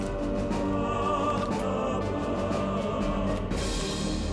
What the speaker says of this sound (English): Sounds like this is from Dark Souls or Elden Ring.